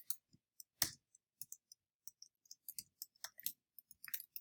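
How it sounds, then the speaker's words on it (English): Scattered key clicks from a name typed on a computer keyboard, irregular taps spread across a quiet background, one louder clack early on. "And I'm going to type in my name."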